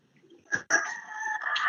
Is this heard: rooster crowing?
yes